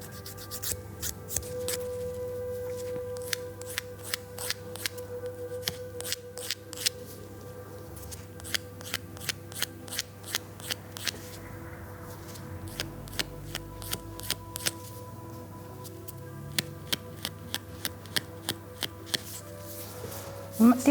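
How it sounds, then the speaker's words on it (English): During a pedicure, a nail file rasps across the end of a toenail to bevel it, with quick, soft, repeated strokes in steady bursts close to the ear and a faint background hum. "I'm just going to go through and just bevel off the end of the nail"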